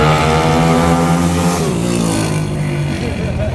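A modified high-revving motorcycle engine held back in Paraguayan traffic, a loud close drone that rises and then settles, with someone talking over it.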